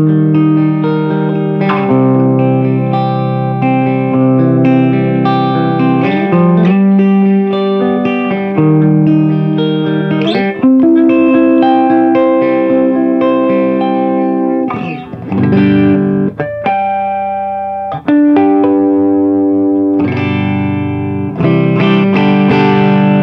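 Electric guitar played through a Granville AMD 800 amplifier with a Metropoulos Zero Loss effects loop, giving a chimey, Marshall-style tone; loud, sustained chords and ringing notes fill the whole stretch without any talking.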